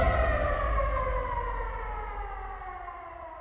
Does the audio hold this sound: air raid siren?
yes